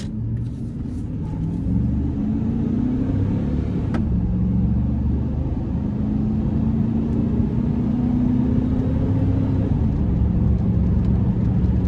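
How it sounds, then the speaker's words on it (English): Deep V8 engine rumble from inside a 2001 Chevrolet Silverado 1500 5.3 extended cab pickup, throttle rising and easing as it makes a U-turn and pulls away, steady and loud throughout. "So we're gonna flip this U-turn, see what it can do."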